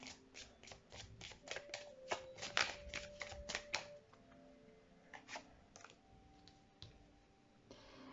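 Tarot cards being drawn and shuffled from a deck, a quick series of crisp flicking snaps followed by softer, sparser card slides and taps, close and quiet.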